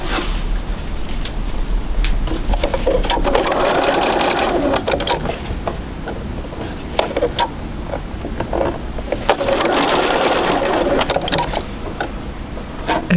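A sewing machine runs steadily while stitching two lined-up edges of fabric, its loud, continuous mechanical whir briefly easing and then picking up again.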